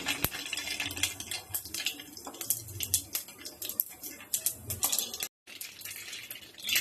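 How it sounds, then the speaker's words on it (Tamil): Mustard seeds spluttering and popping in hot oil for a home-style rasam tempering, a busy run of sharp irregular crackles and pops, close and fairly loud, with no talking. "கடுகு போட்டுக்கலாம் கடுகு பொறிட்டோம்"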